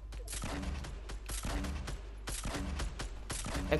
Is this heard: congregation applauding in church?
no